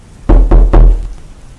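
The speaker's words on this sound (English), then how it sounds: "there was a knock on the door" Three firm knocks on a door in quick, even succession, close and loud, followed by quiet.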